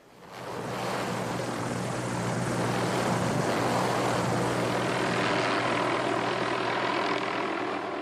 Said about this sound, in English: the best way to get into these mountains and look around is with a helicopter